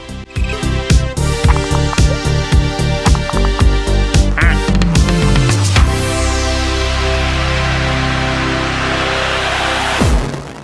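Cartoonish duck quacks from an indie video game about ducks and cards sound in a quick rhythmic series over music, ending in a sweeping chime and sustained tone, loud and close.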